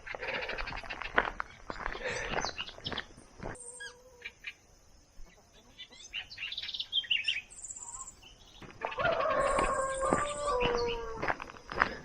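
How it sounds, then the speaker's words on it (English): Bird calls and chirps in a forest, with scattered tweets and trilling songs coming and going, some near and some farther off, with a quieter stretch midway. "Listen to those birds."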